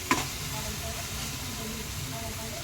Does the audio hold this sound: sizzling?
yes